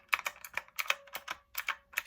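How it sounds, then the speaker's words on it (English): Rapid, clacky typing on a pink typewriter-style computer keyboard with round typewriter keys, bursts of sharp close-up keystrokes with brief pauses between words, no speech. "this is my keyboard. And so as you can see, it is typewriter keys. And so it sounds like a typewriter."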